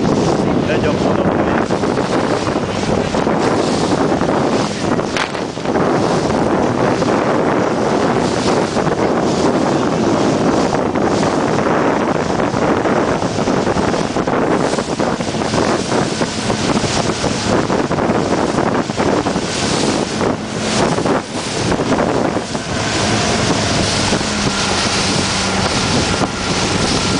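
Strong wind buffets a microphone outdoors near water with boats in a constant roar, with a churning, water-like rush underneath throughout.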